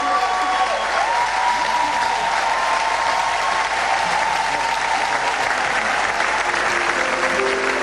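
A church congregation applauding and cheering to acclaim God, a dense, continuous wash of clapping at steady loudness throughout, with a faint sustained tone running beneath.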